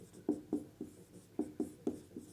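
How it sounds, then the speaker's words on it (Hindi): Chalk taps and scrapes across a classroom board in a steady run of short strokes, close and fairly quiet, with no talk over it. "और इसको अब हिंदी में लिख रहा हूं।"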